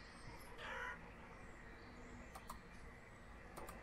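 Chickens in the Banished video game give a brief clucking burst near the start, then soft scattered bird calls over a steady ambient game background, fairly quiet throughout.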